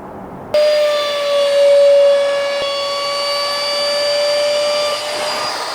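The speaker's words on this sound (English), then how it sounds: "I'm going to use a router and just add in a little chamfer along both of the sides" Router running steadily as it cuts a small chamfer along the sides of wooden slats, a loud continuous whine with a strong steady tone that starts abruptly and holds for about five seconds before easing, no talking.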